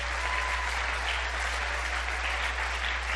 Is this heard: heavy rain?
no